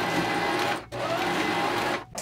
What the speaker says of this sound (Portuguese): Então, vou costurar nessas duas pontas aqui.